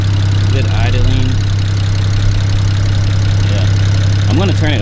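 Cheaply rebuilt BMW 335i engine idling with a steady, even low hum close by, while a person speaks briefly over it.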